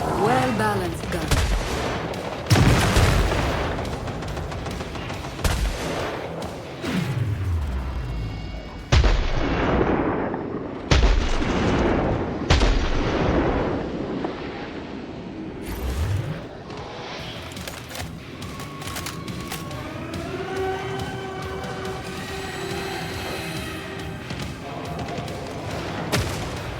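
Heavy gunfire from Killing Floor 3 gameplay, repeated loud shots and booming bursts across the whole stretch, with weapon handling sounds and brief game effects between volleys.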